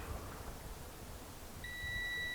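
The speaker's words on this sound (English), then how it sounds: "Everybody gets all keen on this continuity buzzer, and I just want to point out that it's beeping on nothing" A continuity tester buzzer beeps steadily across a one-ohm resistor in an automotive fan circuit, a single clear tone starting partway through and holding to the end over quiet background hiss.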